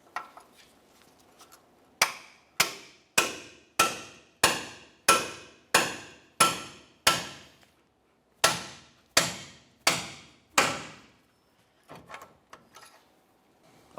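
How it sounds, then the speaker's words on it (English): A hammer strikes a pickle fork to separate a ball joint from the steering knuckle of a 2001-2005 Ford Explorer Sport Trac, a steady series of about fourteen sharp, ringing blows, with a brief pause midway, then a few faint clanks. "Now we can separate the ball joint from the knuckle using a pickle fork and a hammer."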